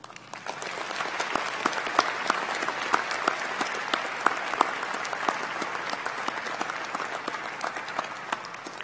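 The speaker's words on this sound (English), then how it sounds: "Let's take a moment to give them a round of applause" A large audience applauds graduates' families at a college commencement for the Class of 2021. Dense, even clapping is sustained and moderately distant throughout, with no voices.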